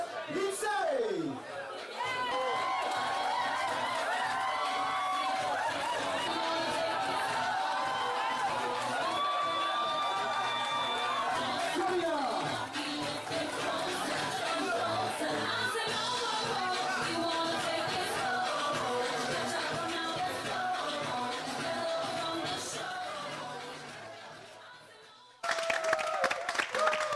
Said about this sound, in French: Applaudissements encore pour lui, s'il vous plaît.